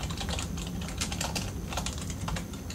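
A wire keyboard in Garry's Mod clatters with steady, rapid keystrokes, a close and continuous run of typing with no voices.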